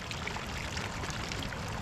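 Icy mountain water rushes and pours continuously in a stream in the Aosta Valley, a close, dense, unbroken splashing flow.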